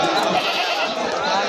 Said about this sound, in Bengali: ছাগলও ভালোই আছে